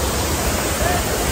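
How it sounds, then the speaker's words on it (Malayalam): A rain-swollen waterfall at Kappimala roars in a dense, unbroken rush of water, loud and close throughout a brief moment. "മഴയുള്ളത് കൊണ്ട് തന്നെ നല്ല വാട്ടർഫോൾ ഉണ്ട്."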